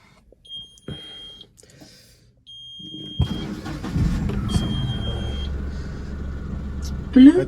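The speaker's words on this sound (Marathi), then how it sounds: "चला आता आपण गाडीला स्टार्ट मारतोय तर तुम्ही बघू शकता" A car sounds several steady electronic dashboard beeps, then its engine cranks and catches, settling into a continuous low idle, heard close inside the vehicle.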